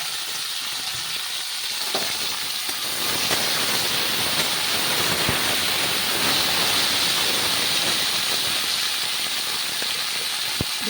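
Flat beans stir-frying in hot oil, a steady loud hissing sizzle that swells slightly partway through, with faint scrapes and taps of stirring, close and continuous.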